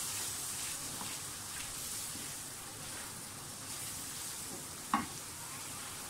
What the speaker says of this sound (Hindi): जो गरम मसाला रखा है वो डाल दें और हरी मिर्चें भी डाल दें। थोड़ा सा मिक्स करें।